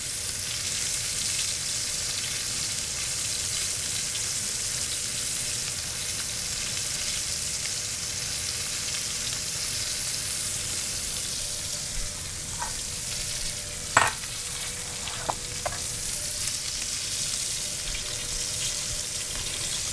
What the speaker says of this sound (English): after I've seared both sides, I like to stand them up and get that fat nice and crispy as well